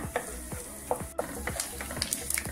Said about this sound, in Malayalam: തേങ്ങ ഇട്ടിട്ട് ഒന്ന് വരട്ടിയെടുക്കണം, അതൊന്ന് മൂത്ത് വരുമ്പോഴേ അടുത്ത സാധനങ്ങൾ ചേർക്കാവൂ